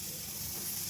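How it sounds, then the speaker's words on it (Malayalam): Onions fry in a pan for a bread sandwich, giving a brief, steady, soft hiss of sizzling with no distinct pops or voices. "ഉള്ളി ഇതിനകത്തിട്ടൊന്ന് മൂപ്പിക്കണം."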